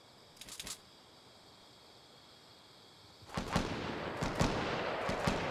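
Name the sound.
gunshots in Fortnite Battle Royale video game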